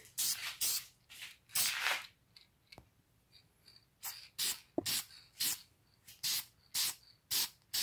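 An aerosol spray can is used to paint a brake caliper hung up on its own, in a series of sharp hissing bursts of varying length separated by short pauses, close and loud.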